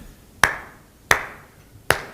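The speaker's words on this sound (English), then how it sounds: "So I'm going to clap twice." Hands clap three times, each a sharp, crisp crack spaced about three-quarters of a second apart, close and clear with nothing else around them.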